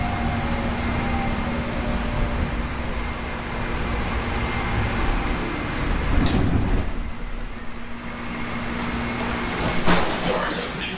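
Tide light rail train doors in Norfolk, Virginia slide open amid steady rumbling train noise, with a couple of brief clunks standing out over the continuous hum.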